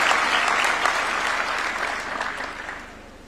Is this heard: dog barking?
no